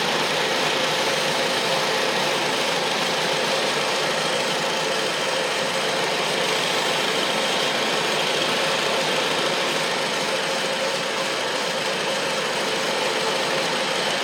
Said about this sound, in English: we're going to let the car run for about 5 minutes